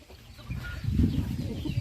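Chickens cluck on a rural farm that also keeps ducks and geese, a low, busy chorus of short calls that grows louder and denser after the first half second.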